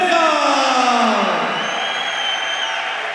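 A live fight-night crowd at a TeslaFC MMA event roars, cheers and whoops for a fighter's introduction, loud and dense at first and then gradually fading, with an announcer's voice ringing out over it.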